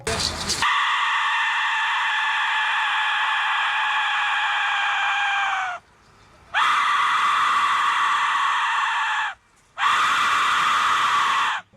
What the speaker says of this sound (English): The shrieking noise most likely represents an Aztec death whistle